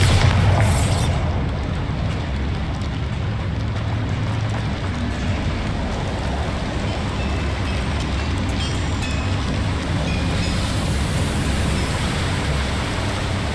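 Bombarda spell blast in Hogwarts Legacy, a loud dense roaring rumble of an explosion that carries on as a sustained crackling, debris-filled wash for many seconds.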